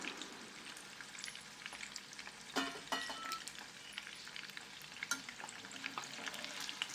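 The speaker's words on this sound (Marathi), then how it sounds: "मंद आचेवर हे सर्व पनीर तळून घ्या" Paneer frying in oil over low heat in a kadhai, a soft continuous sizzle with occasional sharper crackles and stirring clicks, fairly quiet.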